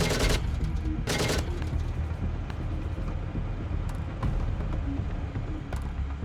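An M1A1 tank fires in a combat video game, with a loud, abrupt blast at the start and a second one about a second later, both ringing out over a constant low engine rumble.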